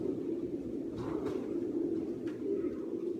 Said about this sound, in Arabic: ناشونال ايس بيجن يعني افضل طير على مستوى بلجيكا، واول ناشونال يعني هذا الطير فايز